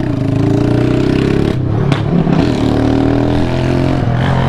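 A stripped-down Honda Fan 150 Mix motorcycle revs loudly and close. The engine drops off briefly, then climbs again, with crackling pops from the exhaust.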